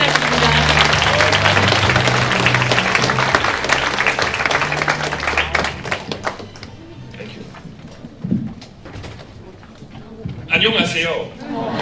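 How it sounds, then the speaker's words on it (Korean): Loud, sustained applause from a conference audience at the Seoul 50+ International Forum 2018 fills the first half, then tapers off as a single voice begins speaking over a quieter room. "네, 뜨거운 박수 부탁드립니다."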